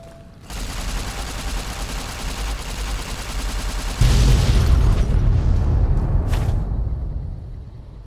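Explosions in Fallout: New Vegas's Lonesome Road DLC set off a loud, sustained crackling roar, then a heavier deep blast halfway through that rumbles and slowly fades, with a sharp pop near the end.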